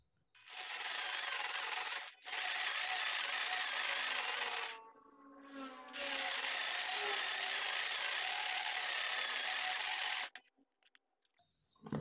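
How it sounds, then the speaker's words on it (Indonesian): A power drill whirs steadily through a motorcycle front shock part in long bursts, pausing briefly between runs, close and loud with no talking. "sekarang kita bor terlebih dahulu"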